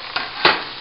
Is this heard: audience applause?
no